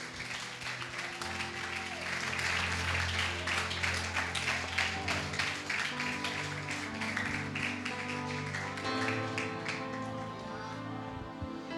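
A church congregation applauds at an evening worship service, steady clapping sustained over music with low organ-like tones beneath; a voice speaks briefly amid the clapping.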